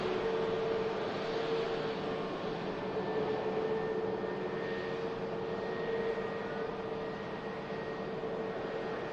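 A Boeing 737 MAX lands at Manchester Airport, heard as a distant, steady jet roar with a faint whine, even and continuous throughout, with no voices.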